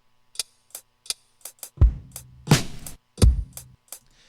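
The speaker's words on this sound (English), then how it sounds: "And then we have this other hi-hat, which is our like actual like hi-hat pattern." A beat's hi-hat pattern plays crisp, short ticking hits in a sparse rhythm, layered with deep booming kick hits, close and clear with no voices.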